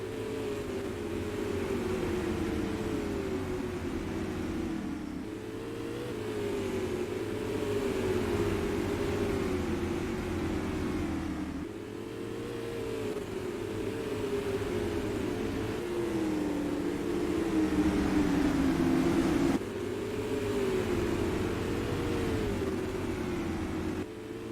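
Short-track race cars, including Keith Powell's CPR Mayfield Missile, running the final laps of a St. Patrick's Day feature race, their engines droning steadily and loudly as the pack sweeps past, with rising and falling pitch through the laps.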